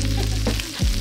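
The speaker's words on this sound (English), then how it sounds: "Wow, he's grilling some kimchi here." Kimchi grills on a hot surface beside a pork belly and minari meal at a rural Korean farmhouse, giving a close, loud sizzle that lasts about a second.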